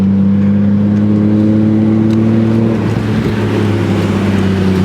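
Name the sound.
Nissan Skyline R32 GTR RB engine revving while driving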